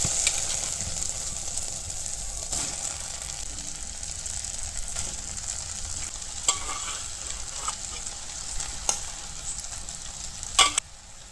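Garlic, ginger, onion and beet fry in a pan with a steady close sizzle, broken by scraping stirs and occasional clicks of a utensil against the pan.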